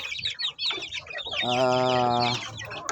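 Native Darag chicks and mixed-breed dragon chicken chicks cheep and peep near the source, a sustained chorus of bright calls with one steady, loud, tonal cheep carrying through the middle.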